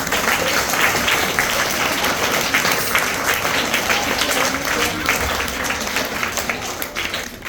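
An audience at an academy event bursts into sustained, dense clapping, loud and close, continuing steadily throughout with a crowd murmur beneath and no clear speech.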